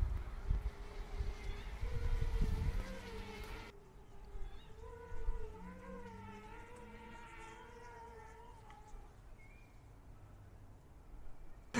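A DJI Mavic 3 Classic drone flies over in sport mode. Gusty wind buffets the microphone at first, then a steady, moderately loud whining buzz rises and falls in pitch as the craft passes, with no voices.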